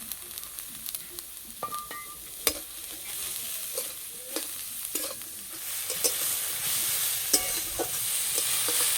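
Onions, cabbage and carrots fry lightly in a pan with a steady soft sizzle, punctuated by scattered clicks and scrapes of a spatula stirring, close up and without talk.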